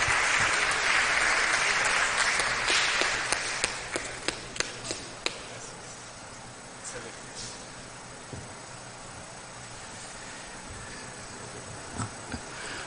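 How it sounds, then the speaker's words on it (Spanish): A congress hall audience claps to welcome a speaker at an academic session: a thick burst of applause that fades over a few seconds into scattered single claps and then near quiet. "Lo recibimos con fuertes palmas."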